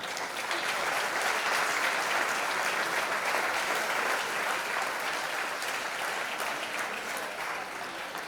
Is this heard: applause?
yes